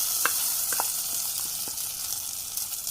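Curry poured over roasted coconut in a hot pan gives a steady, loud sizzling hiss throughout, with a few small crackles and pops near the start.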